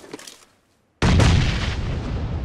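A grenade blast in a battle royale video game bursts loudly after a brief silence, ringing out and slowly decaying, preceded by faint gunfire-like pops.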